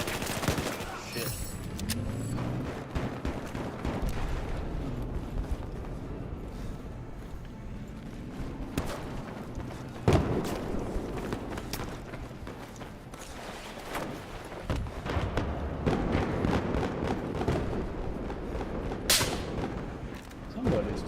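Bursts of automatic and rapid gunfire from a military shooter video game with hostile soldiers and objectives to capture, dense, fairly loud volleys running through most of the stretch with someone talking over them.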